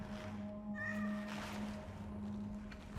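A single meow from a cat in the video game Cronos: The New Dawn, mid-length and moderately loud over a constant low background drone, with no speech.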